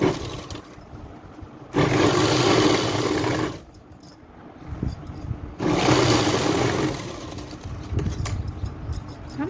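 A sewing machine stitches along a six-panel petticoat in two loud, steady whirring bursts, each lasting a couple of seconds, separated by a quieter pause while the fabric is adjusted.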